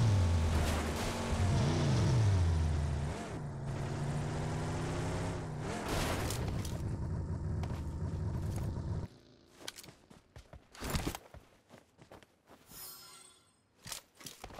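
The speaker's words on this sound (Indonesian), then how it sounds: "yang dengar mobil gua apa?" A steady droning car engine hum in the video game PUBG Mobile, with shifting pitch, runs for several seconds, then cuts out, leaving scattered clicks and short mechanical noises.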